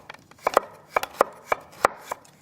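A knife cuts through a carrot lying flat on a cutting board, about eight crisp, close, evenly spaced chops with no talking.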